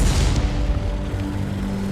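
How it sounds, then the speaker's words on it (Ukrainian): A small cannon on the ELC EVEN 90 light tank fires a three-shell burst in a tank video game, opening with a sharp boom that rolls into a dense, rumbling tail of battle noise. "Наче невеличка гарматка, але на три снаряди."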